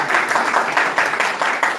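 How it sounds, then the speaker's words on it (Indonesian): A church congregation claps during a Sunday service, a short burst of dense, steady applause filling the room. "mau tepuk tangan bolehlah"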